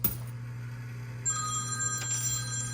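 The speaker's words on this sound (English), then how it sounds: "you got yourself another phone call" A coin pusher machine plays an electronic telephone ring as a bonus sound, a steady trill starting partway through over a constant arcade machine hum, with no talk.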